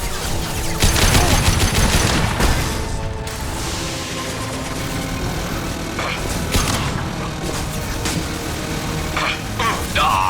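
Sustained gunfire in the video game Mass Effect 2 on Insanity difficulty, loud dense bursts of shots with mechanical clatter running throughout, with brief lulls between volleys.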